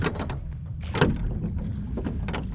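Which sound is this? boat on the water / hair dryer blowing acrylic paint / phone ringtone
boat on the water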